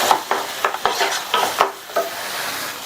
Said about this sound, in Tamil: சேர்த்துட்டு ஒரே ஒரு நிமிஷத்துக்கு மட்டும் இந்த இதை நல்லா வதக்கி விட்டுக்கங்க